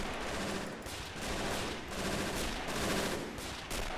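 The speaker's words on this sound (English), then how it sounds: "Machine guns are constantly firing." Machine guns fire nonstop during a D-Day Normandy landing battle in the strategy game Men of War: Assault Squad, a dense continuous rattle of automatic fire with distant explosions, heard alone without talk.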